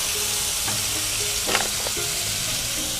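Grated tomato hits a hot pan with green chillies, giving a steady broadband sizzle throughout, with a brief burst of louder crackling and stirring midway; no voices.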